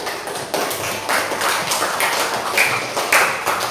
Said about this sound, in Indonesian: Kita beri tepuk tangannya